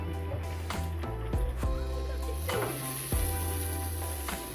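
Catfish frying in hot oil, a soft, steady sizzle with light crackles and a few faint clinks, fairly quiet and with no talking.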